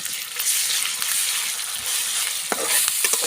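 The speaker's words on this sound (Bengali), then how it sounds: "তেলের সাথে ভালো করে এভাবে ভেজে নিব এরপরে দিয়ে দিলাম আদা" Ginger added to hot oil with onion and chili sizzles and fries steadily, a dense close crackle with a few stirring knocks near the end, no talk.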